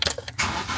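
BMW engine cranking with the gas pedal floored after the car has sat unused a long time, a quick rattling crank followed by the engine catching into a rough, steady run.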